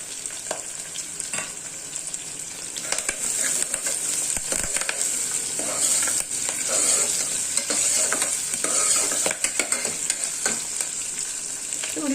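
Curry leaves and green chillies fry and sizzle in hot oil with a steady, bright crackle throughout, broken by occasional stirring scrapes in the pan.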